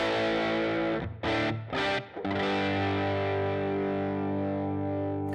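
Distorted electric guitar played through a Line 6 Helix amp model on stock settings, with a condenser-miked speaker cab: sustained overdriven chords, two short stabs, then a long ringing held chord, loud and alone.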